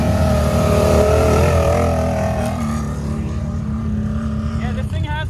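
A Can-Am Maverick X3 UTV with an EVO Powersports Shocker exhaust and launch control accelerates hard. Its loud, rising engine note climbs through the gears and then fades as it pulls away, with people's voices faintly underneath.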